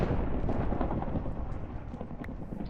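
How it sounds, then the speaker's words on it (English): A lightning strike in the Minecraft modpack FTB Unstable brings a loud, sustained rumbling crack of thunder that fills the whole moment with dense low roar and no speech. "more lightning, harmless."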